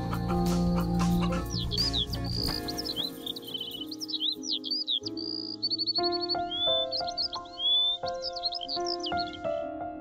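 Chickens cluck and chirp in quick repeated bursts throughout, close and fairly loud over a steady musical background.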